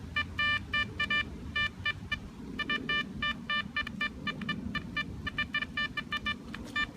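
Blisstool V6 metal detector with a 7x9 coil sweeps over dirt at a nail-filled site, giving rapid chirping tones in short repeated bursts over a soft background hiss.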